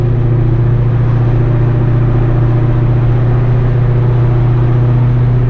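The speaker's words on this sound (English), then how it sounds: "Pass up some of these cars." A Shelby GT500 cruises on the road past other cars, its engine holding a steady loud low drone from inside the cabin, without any change in pitch and with no talking.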